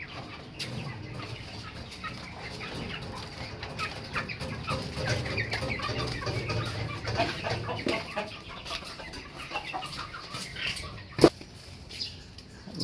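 Farm chickens at feeding time peck and scratch at grain, with soft clucking, wing flaps and scattered tapping over a low background, and one sharp loud knock near the end; no talking.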